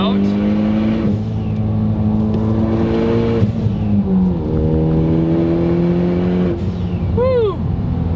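Ford Focus ST fitted with a big turbo accelerating hard through the gears, a loud, close engine note rising in pitch with each gear and dropping at the shifts, closing with a whistling turbo sound.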